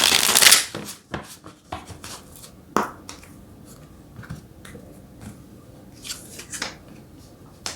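Tarot cards are shuffled and drawn close up: a loud riffle opens, followed by scattered crisp slaps, flicks and taps of cards being handled and laid down, with no talking.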